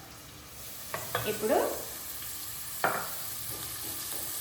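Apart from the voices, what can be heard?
onions frying and being stirred in a pan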